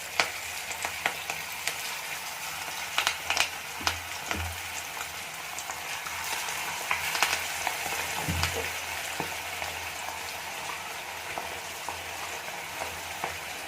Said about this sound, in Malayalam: അപ്പോൾ ആദ്യം കുറച്ച് ഇട്ട് തന്ന് ഫ്രൈ ചെയ്തെടുക്കാം.